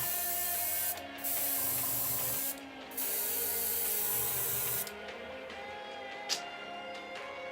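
Iwata Smart Jet Pro airbrush spraying paint, a steady hissing burst up close that stops briefly twice and then gives way to quieter hiss with a few clicks.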